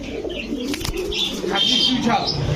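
Chuithal pigeons cooing in a pigeon market, with soft repeated coos and a few chirps close by, mixed with a voice talking.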